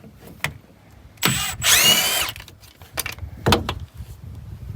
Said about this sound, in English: This little 12-volt Milwaukee impact is nice because it really just fits into tight areas.